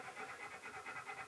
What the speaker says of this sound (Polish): Słyszymy, jak mój pies tutaj w chłód jest, sobie ciężko oddycha i się studzi.